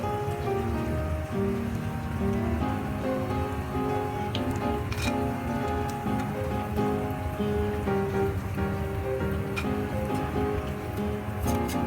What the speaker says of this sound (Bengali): পাকোড়াগুলো এভাবে উল্টে উল্টে দিয়ে আমরা ভেজে নিলাম।